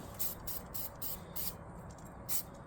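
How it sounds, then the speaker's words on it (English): Brake cleaner is sprayed onto old mower deck parts in short bursts, about six or seven close hissing sprays with brief pauses between them. "Might take a little bit of brake clean to this thing."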